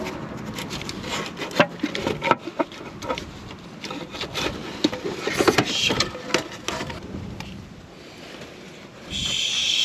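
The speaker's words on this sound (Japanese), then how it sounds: "メリメリとくっついたパッキンを剥がしていっております" Repeated scraping and rasping strokes, close and irregular, as a stuck gasket is pried and peeled off a Honda Beat engine cover, with a brighter hiss near the end.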